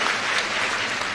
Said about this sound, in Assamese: এটা দীঘলীয়াকৈ হাত চাপৰি বজাই দিয়ক